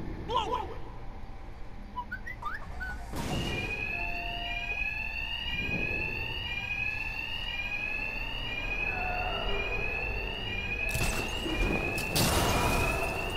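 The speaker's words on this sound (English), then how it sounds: "Two-Face's thugs won't hear me over the alarm." An alarm rings through a bank during a heist in Batman: Arkham Knight, a repeating high electronic tone that sweeps on steadily amid loud bursts of game action and impacts.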